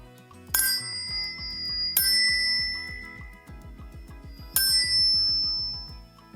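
A metal ghee vessel rings out when struck three times, each bright, clear strike leaving a long shimmering decay, close by, with faint background tones underneath and no talk.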